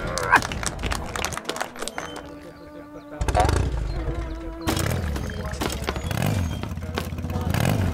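A motorcycle engine from the golf video game What the Golf revs in bursts amid clattering game effects, loud and close, with a brief quieter gap before the engine noise returns.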